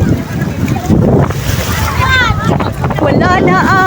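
Strong sea waves at San Juan on a windy, darkening day, a steady broad wash of surf with wind buffeting the microphone and a person's voice calling out over it.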